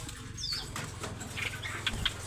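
Caged birds flap their wings at a market stall, a soft, fluttering patter with a few brief chirps over a steady low hum.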